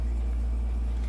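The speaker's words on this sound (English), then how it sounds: "noise in the background. It's just my air conditioner." A constant low hum from an air conditioner fills the background, steady and unchanging, with no voices.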